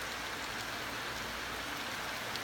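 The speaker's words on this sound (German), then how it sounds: "Das regnet sich ab." Heavy rain during a severe thunderstorm in Halberstadt, a dense, steady hiss of falling drops with no breaks and no voices.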